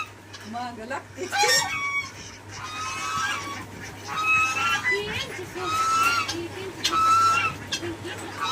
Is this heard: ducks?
yes